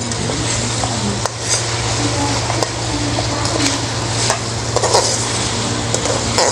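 Ginger garlic paste fries in a pan, giving a steady close sizzle with occasional sharp stirring clinks and scrapes, loud and continuous without talk.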